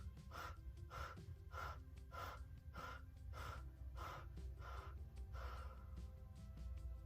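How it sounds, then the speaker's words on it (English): Quick forceful breaths in a breathing and core exercise, about ten sharp, evenly spaced exhales pushed from the belly, close and steady over a low background hum, with no talking. "A big inhale and exhale. Pull the belly in,"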